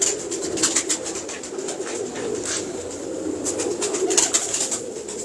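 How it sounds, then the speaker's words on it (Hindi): Breeding pigeons coo in soft, repeated low murmurs, several birds overlapping close by, with light rustling and faint high chirps around them. "ये इंशाल्लाह अच्छे कबूतर, परवाज में भी अच्छे होंगे।"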